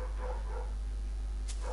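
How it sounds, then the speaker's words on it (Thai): A house dog keeps barking off-mic in a home during a Minecraft session, a few barks rising over a constant low hum, with no talking. "เสียงมันดังขึ้นเรื่อยๆหมาบ้านผม"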